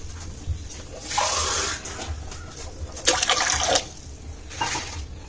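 Water is poured into a tumbler at home in short bursts, three separate splashy pours with brief pauses between them, close and fairly loud.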